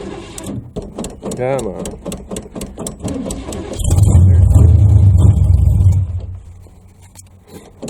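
A 1980 Chevy Malibu Landau engine cold-starting for the first time: starter cranking in rapid clicks, then the engine catches and revs loudly with a mid-range roar before settling to a rough idle, with a brief spoken word early on.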